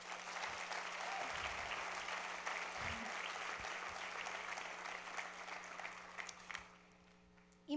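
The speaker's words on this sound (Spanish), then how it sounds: "¿Le pueden dar un aplauso a Jesús?" A church congregation applauds, a dense, even wash of clapping that holds steady for several seconds and then tapers off quickly near the end.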